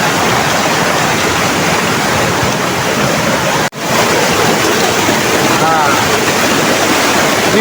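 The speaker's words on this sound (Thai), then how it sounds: "เดี๋ยว ผมจะพาทุกคนไปดูน้ำตกตรงนี้นะครับ" Steady, loud rush of a waterfall on a wild forest stream, a broad continuous roar filling the whole clip with one brief dropout midway and no voices.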